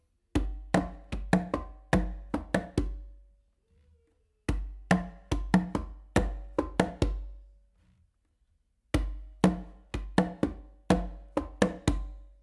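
Congas played in a full up-and-down beat independence exercise: three bursts of rapid, evenly spaced sharp hand strikes, open tones and slaps, separated by short pauses, close and clear with no talking.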